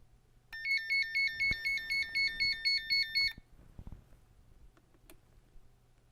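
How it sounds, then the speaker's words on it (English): A Voice Modularm kitchen temperature alarm rings in a rapid repeating electronic warble for about three seconds, loud and clear, then stops, leaving faint clicks and handling noise. "The alarm will go off repeatedly until you turn the switch back to 34 degrees Fahrenheit."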